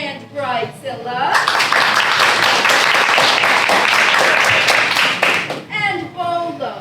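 A live audience at an improv comedy show claps together for a couple of seconds to vote, a dense burst of applause with a voice speaking before and after it.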